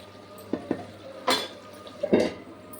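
A few soft scrapes and clinks of a spoon stirring cumin chicken fry in a pan, with a faint sizzle underneath, close and quiet.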